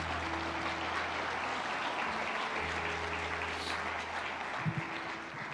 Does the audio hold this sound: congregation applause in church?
yes